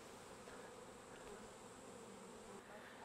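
A swarm of honey bees being scooped up with a dustpan hums steadily, a dense, faint buzzing drone that holds throughout with no talk.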